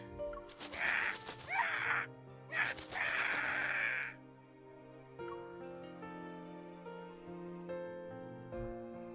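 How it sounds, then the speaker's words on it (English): Two harsh, raspy crow screeches from a bird in the game Love and Deepspace, each about a second long, standing out loud and close over soft background music that carries on alone afterward. "As if expressing its grievances, the crow screeches."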